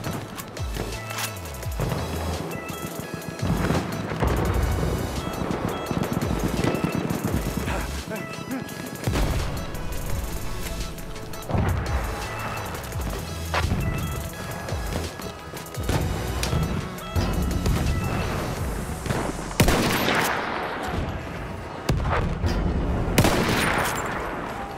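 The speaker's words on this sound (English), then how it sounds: "Wait for the enemy artillery barrage to stop firing." An enemy artillery barrage and gunfire in Battlefield 1 make a dense, continuous din of shots, crashes and booming impacts under game voices and battle noise, loud and relentless across the whole stretch.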